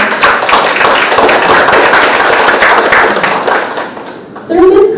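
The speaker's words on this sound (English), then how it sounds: "So let us give a round of applause for both Futurise and Kendana." Audience applause at a talk on the future of care, a dense burst of clapping that fills the room for about four seconds, then briefly fades before a voice cuts in.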